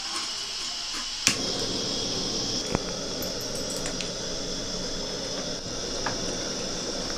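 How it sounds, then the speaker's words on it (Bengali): Water is poured steadily into a kadai for a vegetarian fish-style curry, making a continuous close hissing splash with a couple of faint clinks of metal. "কড়াইয়ের মধ্যে জল দিয়ে দিচ্ছি পরিমাণ মতো"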